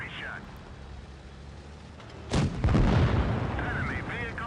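In a tank video game, a Comet tank's gun fires in quick succession, heavy booming shots and rumbling blasts rising midway over continuous engine and battle noise, with a voice talking over it.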